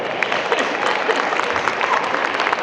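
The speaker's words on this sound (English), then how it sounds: "Give a round of applause." Audience applause at a Nostalgia Con convention panel, a dense, steady wash of clapping from a crowd that holds at an even level for a few seconds.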